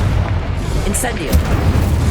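A booming fire blast from the Incendio spell in Hogwarts Legacy, a burst of roaring flame amid game sounds, with a voice calling out the spell over it.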